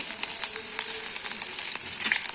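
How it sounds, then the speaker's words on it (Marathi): Mustard seeds and asafoetida frying in hot oil: a continuous bright sizzle broken by scattered sharp crackles and pops, with no voices. "आता मी तेलात मोहरी घातली आहे मोहरी आणि हिंग घातला आहे"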